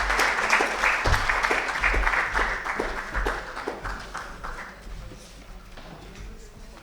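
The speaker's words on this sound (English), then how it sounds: "can we have a huge round of applause for these ladies?" An audience at a corporate social responsibility awards ceremony in India applauds the winners with steady, dense clapping that starts full and gradually thins and fades over several seconds.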